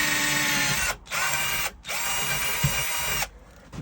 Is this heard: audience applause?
no